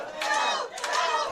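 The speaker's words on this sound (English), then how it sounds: "Crowd chanting, curl, curl, curl, curl." A curling crowd chants in unison during a mixed doubles quarterfinal, two short bursts of massed shouting in quick succession, bright and moderately loud.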